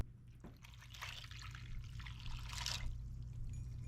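Milk poured into a skillet for a shipwreck skillet dish, a steady soft trickling pour that swells slightly toward the end over a low background hum.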